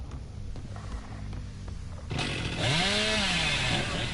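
A killer's chainsaw in the video game Dead by Daylight: low idle clatter first, then a loud, rising rev that holds a harsh whine to the end.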